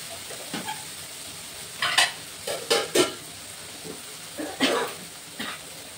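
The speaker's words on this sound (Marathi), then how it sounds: "मटकी पण परतन आणि मसाला पण परतन" Matki sprouts sautéed with masala in a pan: a steady sizzle broken by several scraping stirs, some close and sharp, spaced irregularly across the stretch.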